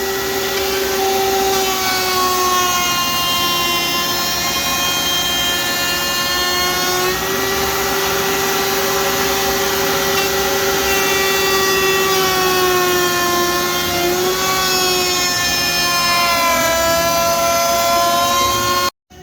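Handheld router cutting material for a trash roll-out assembly, a loud high-pitched motor whine with a droning pitch that dips briefly under load before cutting off at the end.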